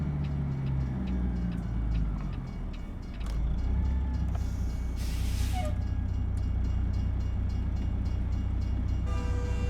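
A train rolls past on rails in American Truck Simulator, a steady loud rumble with rhythmic clicks of wheels over track joints and a brief horn-like tone, heard close alongside a truck engine drone.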